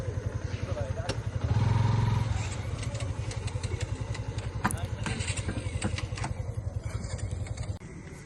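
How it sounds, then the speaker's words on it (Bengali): A motorcycle engine idles steadily nearby as it is parked by a father, a low throbbing running throughout with brief clatter, while people talk over it. "আর বাবা বাইক রাখতেছে"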